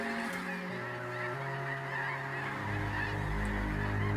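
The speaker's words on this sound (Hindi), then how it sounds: "लंबे सफर के बाद बहुत भूखे ये हंस यहाँ मौजूद खाने की भरपूर दावत उड़ा लेना चाहते हैं" Geese honking steadily while feeding on grass and water plants after a long migration, a continuous chorus of calls from a flock at moderate distance, with no talk.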